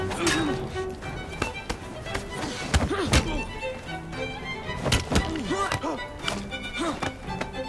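Repeated melee combat hits from Assassin's Creed Syndicate, a steady run of dull thuds and sharp whacks landing every half second or so, mixed with grunts and game effects.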